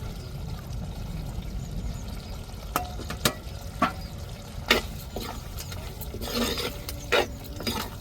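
Mutton chukka sizzles in a pan as ammi-ground roasted masala is mixed in, with a steady frying hiss broken by scattered utensil clicks and scrapes.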